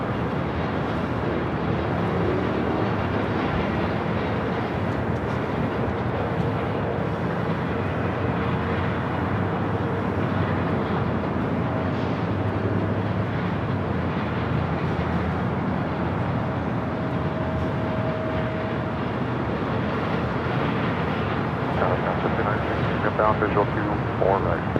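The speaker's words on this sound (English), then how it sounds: "Let's head to a Frontier A320 Neo. Next arrival here on the north side" Frontier Airlines Airbus A320neo jet arriving on runway 24 right at LAX, a steady broadband roar that holds throughout at moderate level, blended with a continuous mix of airport ambience and talk.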